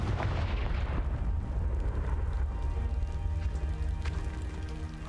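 A booming magical fire-spell explosion in Hogwarts Legacy, set off against a pile of debris blocking a stairwell, rolls out as a loud low rumble with crackling, scattering debris that slowly fades.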